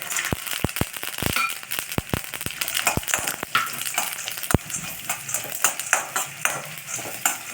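Chana dal and peanuts fry in a hot pan of oil, crackling with many sharp pops and spatters over a steady sizzle, loud and close, with no talking.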